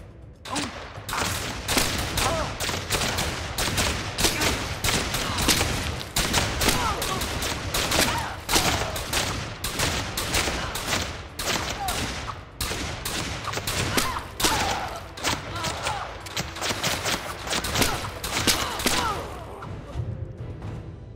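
Sustained gunfire from hostile attackers in the video game Fallen Earth, dense rapid shots with thuds and impacts continuing loudly for about twenty seconds with little pause.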